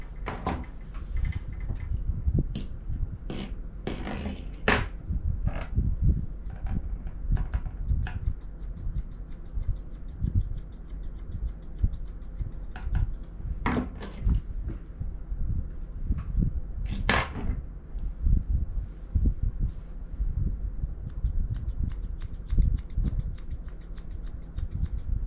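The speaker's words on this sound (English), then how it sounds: "now that he is getting nice and sleepy, it is the ideal time to trim his face" Scissors trimming the face of a sleepy toy poodle during grooming give a dense run of close, crisp snips and metallic clicks, coming in quick irregular clusters over a low background hum, without speech.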